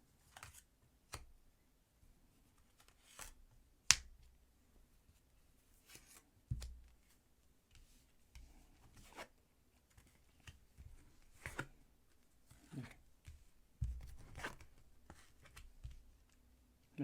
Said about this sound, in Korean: 타로 카드 세 장만 뽑아 보겠습니다